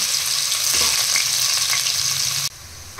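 Slit green chillies and onions frying in plenty of oil for a chicken masala curry, a loud continuous sizzle close up that drops abruptly to a softer sizzle near the end.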